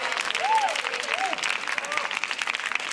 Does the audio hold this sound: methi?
no